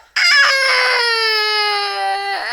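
A boy screaming and crying after a dog bite on his leg: one long, loud, sustained wail, close and steady, tapering slightly at the end.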